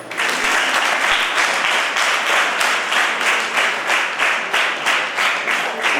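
Loud, steady clapping from a large crowd at a district-level school science day event, dense and continuous with a slight rhythmic pulse throughout, close and full with no talk.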